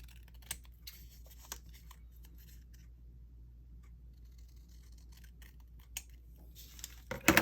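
Scissors cut paper pieces down in a quiet room, with a few sparse, sharp snips spread across a faint background hum and a louder burst of cutting near the end.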